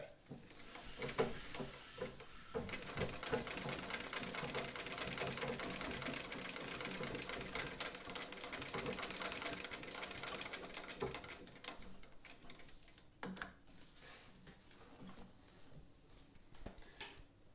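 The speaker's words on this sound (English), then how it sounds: "This being the Singer 15 Treadle has a certain sound" A 1905 Singer 15-30 treadle sewing machine runs steadily with a rapid mechanical clatter for several seconds, then slows and stops with a few faint knocks, fairly quiet and close.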